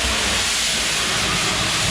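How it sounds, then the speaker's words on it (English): A steam train on a coal mine railway hisses steadily and loudly, a continuous broadband rush of escaping steam close by with no voices over it. "We can hear the train right now."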